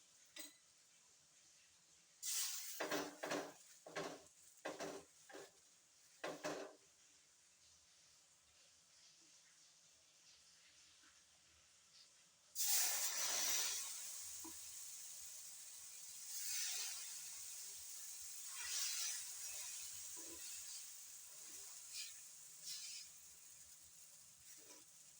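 Oil sizzles on an uttapam in a hot pan as a steady, moderately loud hiss that starts abruptly. Earlier, a few light clinks of utensils sound in short bursts, with no talk.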